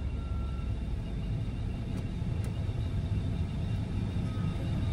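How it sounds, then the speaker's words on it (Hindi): A car accelerating in third gear during a driving lesson, heard from inside the cabin as a steady, muffled low engine rumble with road noise, fairly loud and unchanging throughout. "अभी स्पीड बढ़ाओ, डालो थर्ड गियर"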